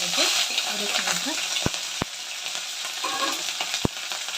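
Byadgi chillies and curry leaves sizzle steadily in hot oil, a bright continuous frying crackle with a few sharp clicks of a utensil against the pan and faint talking underneath.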